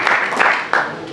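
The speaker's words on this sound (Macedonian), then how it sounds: "Еден голем аплауз за" Crowd applause at the jubilee Pivtijada festival in Kumanovo, with loud, close clapping that swells in a few pulses through a brief burst.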